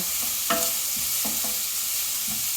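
Onions soften in a pan with a quiet, steady frying hiss, broken by a few soft clicks and scrapes of stirring, no voices.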